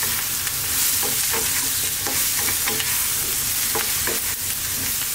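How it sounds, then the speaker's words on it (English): Cauliflower pieces tossed and frying in a pan over medium-high heat, a steady loud sizzle broken by repeated scraping and stirring rustles as the florets are thrown around, with no voices. "we're going to throw these around in the pan."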